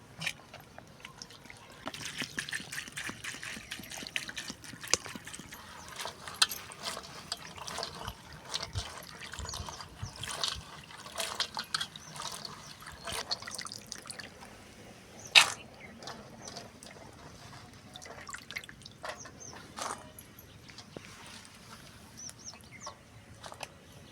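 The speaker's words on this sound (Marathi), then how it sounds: "आता हे गवार स्वच्छ पाण्याने असे धुवून घ्यायचे आहे" Water sloshes and splashes in short bursts as cluster beans are rinsed by hand, with occasional clatters and faint clucking chickens in the background.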